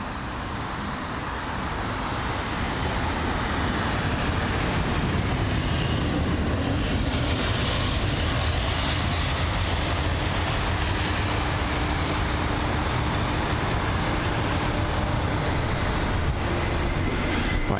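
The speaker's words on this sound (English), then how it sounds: "the next aircraft was the Aer Lingus A321neo from Shannon on its 1 hour journey" An Aer Lingus A321neo from Shannon at London Heathrow produces a steady, loud broadband jet engine roar that builds slightly and holds constant, with a low rumble filling the whole stretch.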